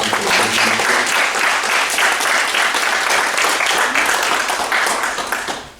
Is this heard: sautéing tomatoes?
no